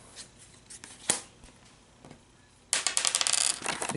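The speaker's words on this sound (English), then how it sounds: "Let's draw some loot cards here." Loot cards being drawn from a deck in the board game Forbidden Fortress, with soft slides and flicks followed by a busier run of crisp card shuffling near the end, no talk.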